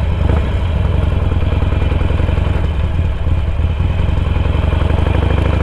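A Royal Enfield Interceptor 650 motorcycle engine runs close and loud, with a steady throbbing parallel-twin rumble and some mechanical clatter throughout.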